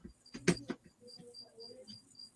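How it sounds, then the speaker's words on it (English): Crickets chirp in a reptile keeper's room, with short high, thin pulses repeating steadily in the background while a few louder knocks and rustles sound nearby, and no one speaks. "Them crickets are really annoying me."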